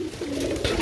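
Pigeons coo in a low, steady murmur, close and continuous, heard during a free pigeon raffle.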